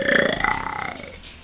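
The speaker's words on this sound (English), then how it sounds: "Wow, I'm burping a lot." One drawn-out burp rumbles close to the microphone and fades out, from a player during a Roblox gaming session.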